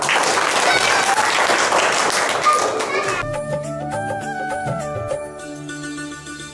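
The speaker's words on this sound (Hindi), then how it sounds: "ताली तो बजाओ सब।" A group of children claps in a dense, loud burst for about three seconds before it gives way to bright, tonal music.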